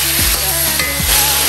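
Chicken pieces sizzle and crackle loudly in a hot wok as Sichuan pepper wine is sprayed in, with short bursts of hissing and the scrape of stirring over a steady frying noise.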